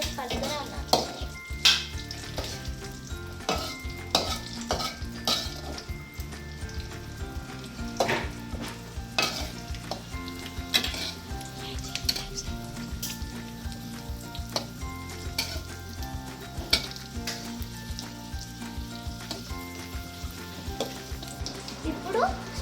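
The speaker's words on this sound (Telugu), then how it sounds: "ఇప్పుడు మాడిపోకుండా కలపాలి." Payasam with cashews and raisins is stirred in a hot pan, giving continuous frying sizzle broken by repeated scraping stir strokes against the pan, with soft music running underneath.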